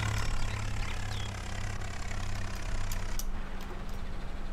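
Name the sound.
tractor engine running in Farming Simulator 19 video game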